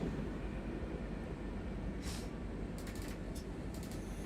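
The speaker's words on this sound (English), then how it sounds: "they use the exact sounds for this train" Train running sounds from the video game Train Sim World 6 on the Stuttgart Hbf to Heilbronn Hbf route, a steady continuous rumble with a few brief hissing bursts, fairly constant and loud throughout.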